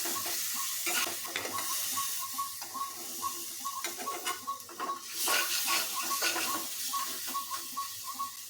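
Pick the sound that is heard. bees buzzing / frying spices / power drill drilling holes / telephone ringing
frying spices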